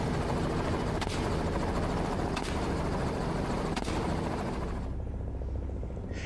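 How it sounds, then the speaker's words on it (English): Loud, constant helicopter engine roar with sharp bursts of rapid gunfire cutting through at intervals during an aerial hog hunt in Texas. "roar of the engine blended with the rapid-fire gunshots"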